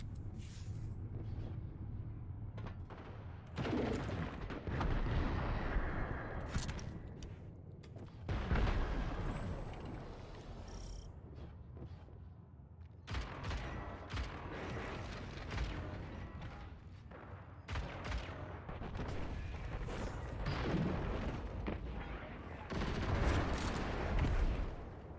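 Gunfire in the video game Destiny 2, with repeated bursts of shots and booming impacts arriving in clusters over a constant mechanical background, moderately loud throughout.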